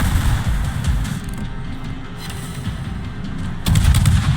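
Continuous gunfire and shell impacts in a naval combat video game, a dense crackling barrage of hits on a ship that stays loud throughout and surges again near the end.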